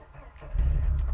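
A 1990 Mercedes W124 that has sat unused for about two weeks cranks and catches, the engine rising into a low, steady rumble close by after a quiet start.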